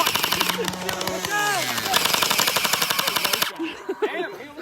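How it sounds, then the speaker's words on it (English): Paintball guns fire in a rapid, dense string of close pops during a Halloween paintball game, continuing for several seconds under excited shouting before cutting off. "They're shooting. They're live firing at us."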